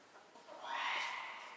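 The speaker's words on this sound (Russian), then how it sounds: "Да, в клетке какая-то птица." A bird in a cage inside a Seljuk-era caravanserai in Alanya, Turkey, gives a single rising, hoarse screech that swells and fades within about a second, heard from a short distance with no talk.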